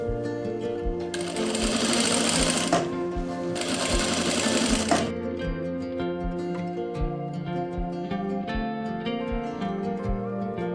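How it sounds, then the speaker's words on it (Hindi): A sewing machine runs a double line of stitching on a puff sleeve, a close, steady mechanical chatter with two louder bursts of faster running early on and regular thumping needle strokes throughout. "अब मैं इसमें एक सिलाई और लगा दूंगा।"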